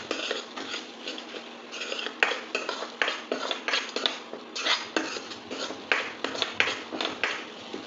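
Masala for paneer curry being stir-fried in a pan over low flame, with a spatula scraping and clinking against the metal in a steady, busy rhythm of close, repeated strokes.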